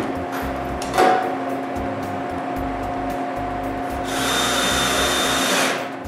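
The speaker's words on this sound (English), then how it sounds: "Next, I drill a 6-inch hole in the center." A power drill whirs steadily while drilling a 6-inch hole in plywood, with a brief thump near the start and a louder, harsher burst of drilling toward the end.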